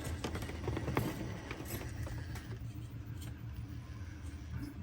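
A Furitek Cayman Pro 6x6 RC truck on a quick test run, its small electric motor whirring with a low rumble and light patter of tyres on the ground, steady and fairly faint throughout.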